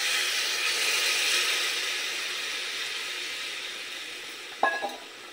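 Hot water poured onto braised desi chicken in a pan, giving a loud steamy hiss and sizzle that slowly fades, with a brief clatter of a utensil against the pot near the end.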